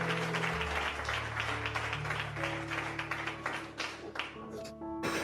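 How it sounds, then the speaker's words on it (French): Audience applause at a wedding rises under a sustained musical fanfare, moderately loud and steady, fading slightly before the end. "Sa Majesté le roi Gassé, veuillez vous lever très respectueusement sous vos applaudissements, s'il vous plaît."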